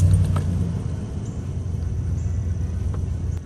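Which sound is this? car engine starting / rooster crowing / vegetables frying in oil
car engine starting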